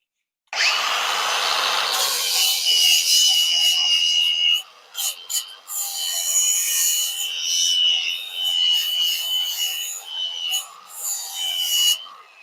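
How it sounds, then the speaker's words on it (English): An angle grinder fitted with a 120 grit flap disc grinds rust off a metal edge, a loud, steady abrasive whir with brief dips and lifts as the disc touches and leaves the workpiece, running alone for most of twelve seconds. "Now I'm going to use the 120 grit on this edge to see how fast it removes that rust and polishes the edge."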